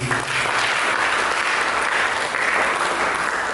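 Dense, sustained applause from a large church congregation during an Indonesian sermon, steady and loud throughout with no pauses.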